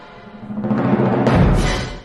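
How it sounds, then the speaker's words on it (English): A short timpani sample swells in a deep, resonant roll, growing louder before fading out. "So for a timpani sample, it sounds like this."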